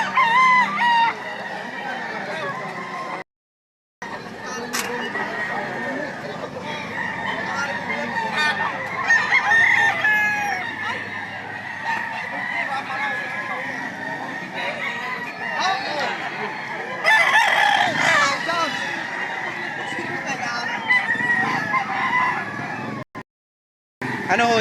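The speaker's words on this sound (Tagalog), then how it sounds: "Napakagandang manok." A well-groomed, 11-month-old pet rooster crows and clucks up close, with repeated calls over a continuous outdoor background that drops out for two short gaps.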